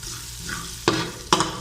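Onions sizzle in a pan of chicken liver adobo while being stirred, a steady frying hiss broken by two sharp scraping stirs near the end, close and moderately loud.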